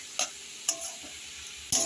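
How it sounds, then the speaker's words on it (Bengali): Stirring in a frying pan with salt and turmeric added, a soft low sizzle under three sharp scraping strokes of the spoon against the pan, close and fairly quiet. "এখন আমি এটাকে এইভাবে নাড়াতে থাকবো"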